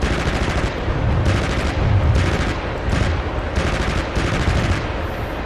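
An M240 machine gun on a vehicle turret fires in the DCS World combat simulator, loud bursts of rapid automatic gunfire in several short strings separated by brief pauses.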